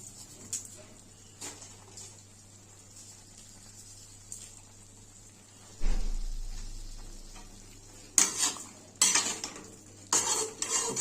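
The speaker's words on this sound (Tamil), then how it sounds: "உப்பு போட்டு நல்லா கிண்டி விட்டுக்கோங்க." Chicken liver pepper fry being stirred with a metal spoon in a pan, giving a series of scraping, clanking strokes against the metal with a faint sizzle underneath, louder in bursts toward the end.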